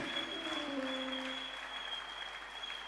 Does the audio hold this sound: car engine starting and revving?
no